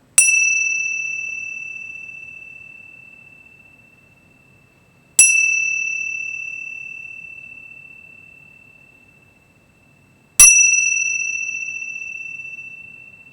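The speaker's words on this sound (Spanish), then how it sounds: "revisamos la postura en los 3 toques de campana" A meditation bell is struck three times at even intervals, each bright ding ringing out clearly and slowly fading before the next stroke in a quiet room.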